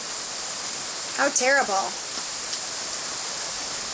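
Steady rain falling outdoors on horses at an equestrian center, a soft continuous hiss throughout, with a brief spoken remark partway through.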